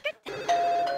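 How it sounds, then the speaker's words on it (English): A telephone rings in The Sims Bustin' Out video game, giving short electronic bell-like tones with a sustained ringing note near the end, loud and close. "Okay, we're going to answer the phone."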